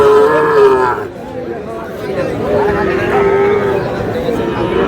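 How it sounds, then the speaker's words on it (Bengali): A young Sahiwal bull calf at a busy Dinajpur cattle market gives a drawn-out low moo, then calls again later, amid crowd chatter and someone speaking close by. "শাহিওয়ালের ষাঁড় বাচ্চা"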